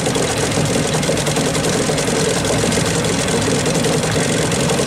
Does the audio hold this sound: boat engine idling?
yes